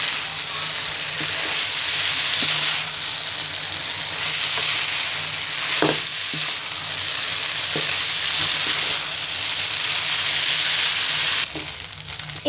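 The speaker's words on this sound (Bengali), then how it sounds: "সব মশলার সাথে নুডলসটাকে নেড়ে মিশিয়ে নিব।" Boiled noodles are stir-fried with spices in a pan for restaurant-style Chinese noodles, giving a steady, close sizzle with occasional sharp scrapes and knocks from stirring.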